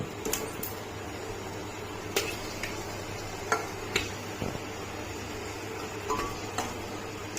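Chicken coated in ginger-garlic paste is stirred in a pot, with sparse, light clinks and scrapes of a utensil against metal over a steady low hum, quiet and close.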